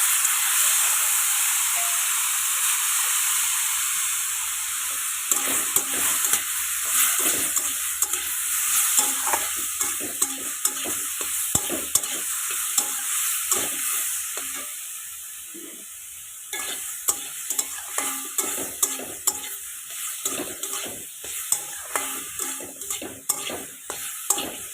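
Papaya curry simmering with homemade banana khar, a constant steamy hiss and bubbling while a spoon stirs and scrapes the pot in repeated knocks and rasps over about twenty-five seconds, with no one speaking.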